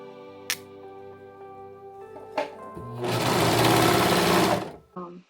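Sewing machine stitching through three layers of fabric, joining a circular piece to a bodice; a steady loud burst of stitching runs for about a second and a half after quieter room sounds and a few clicks.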